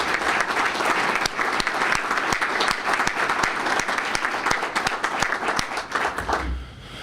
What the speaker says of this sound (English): I'd like to give them a round of applause for all of their hard work